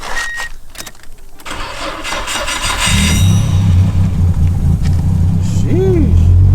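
A Nissan Silvia S15, a built JDM car fitted with an aftermarket exhaust, cranks and fires at about the three-second mark, then settles into a loud, steady rumbling idle close by, with a faint voice over it.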